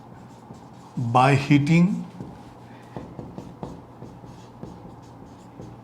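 Chalk or marker writing on a board during a chemistry lesson, heard as faint, short scratchy strokes in the background while someone speaks over them at the start.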